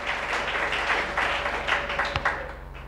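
A church congregation applauds and cheers continuously in praise, a dense broad wash of clapping with a few voices rising through it, steady and fairly loud from start to finish.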